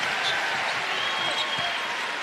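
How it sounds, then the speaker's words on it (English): Steady crowd applause in the arena at a TBT 2026 championship basketball game between La Familia (Kentucky Alumni) and Davis Steel, a broad sustained wash of clapping and cheering filling the whole moment with a faint bounce beneath. "That was more of a thank you applause."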